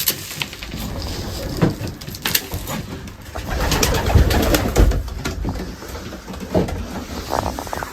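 Racing pigeons coo in a loft, soft repeated coos and rustling at close range with wing flutters and light knocks scattered across the stretch.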